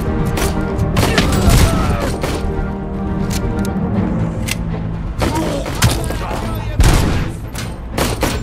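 Gunfire in the video game Robocop Rogue City: heavy, rapid bursts of shots and booming impacts repeat loudly throughout, with voices mixed in under the shooting.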